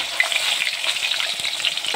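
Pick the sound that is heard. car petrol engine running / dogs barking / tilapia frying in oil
tilapia frying in oil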